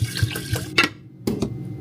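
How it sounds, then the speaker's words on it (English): Water poured from a tap into the pot of a worn, broken rice maker in a home kitchen, a few short splashing gushes with brief pauses, close and fairly loud. "Let's add some water."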